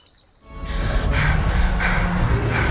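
A Hebridean Black dragon in Hogwarts Legacy snorts out heavy, rhythmic breaths, a run of loud, close, breathy pulses that begin after a brief quiet moment and repeat steadily.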